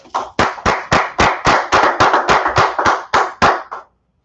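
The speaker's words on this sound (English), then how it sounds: "Clap it up, clap it up." A group claps hands in unison at a Brotherhood class, about fifteen sharp, loud, evenly spaced claps in a quick steady rhythm that stop abruptly.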